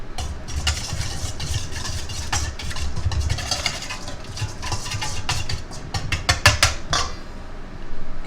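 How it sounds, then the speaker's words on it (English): Ingredients are whisked together with tomatoes in a bowl, a rapid, close run of metallic clinks and scrapes that speeds up toward the end over a low, steady hum. "Whisk it together."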